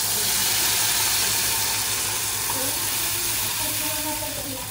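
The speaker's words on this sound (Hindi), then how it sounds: "जो हमने पेस्ट बनाया था अब उस पेस्ट को इसमें डालेंगे" Spice paste sizzles in hot oil with black and green cardamom and whole cumin, making a loud, steady broadband hiss that continues close-up throughout with no speech.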